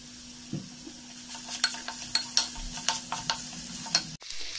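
Capsicum and beans fry in a pan for a vegetable pulao, giving a steady sizzle broken by repeated scrapes and clicks of stirring, close and moderately loud with no talk, then cutting off abruptly near the end.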